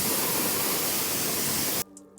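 A loud, steady hiss of pressurized water spraying up close as a car is rinsed, running continuously before cutting off abruptly near the end.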